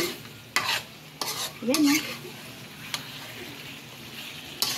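Pork belly barbecue fries in a pan with a steady low sizzle, punctuated by several sharp scraping stirs of a utensil against the pan; a voice speaks briefly.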